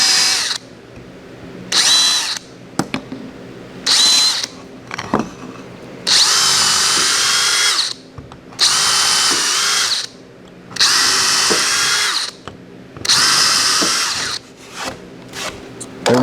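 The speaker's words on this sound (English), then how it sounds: "We're going to pre-drill" A power drill whirs in repeated short bursts, pre-drilling holes one after another for a backhoe rolling cart build, with brief gaps between, close and loud.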